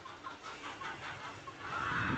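Farmyard chickens cluck steadily as they are let out to be fed millet, a soft, continuous cackling at close to moderate range that grows a little louder and busier toward the end, with no talking.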